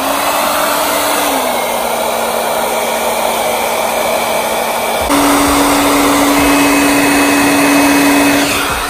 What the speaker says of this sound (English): I like to use a hair dryer instead of a heat gun